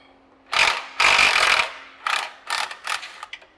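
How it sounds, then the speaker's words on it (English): A hand ratchet turns a bolt out of a Jeep Wrangler frame, giving several bursts of loud, close clicking that get shorter and quicker toward the end. "we're going to remove this bolt"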